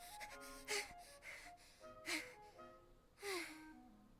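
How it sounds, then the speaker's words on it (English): Someone in the video game Mythic Love pants in short, breathy gasps, several distinct heaving breaths at steady intervals, faint and close, over a soft background music bed. "Someone is panting."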